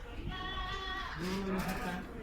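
Bleats from a goat at a livestock market in Riyadh, Saudi Arabia: two drawn-out, wavering calls that follow one another, with a busy crowd and voices murmuring underneath.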